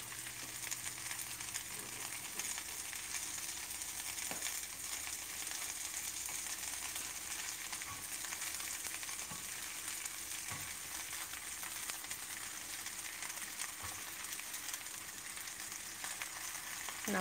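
Mixed greens with celery and cauliflower greens cook in a pan of coconut green curry, giving a steady, even sizzle and hiss that runs throughout with no talk.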